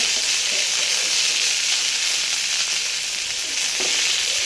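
Curry leaves crackle and sizzle loudly in hot oil, a dense, steady close-up hiss that holds without a break.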